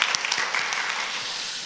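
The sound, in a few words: applause welcoming someone in church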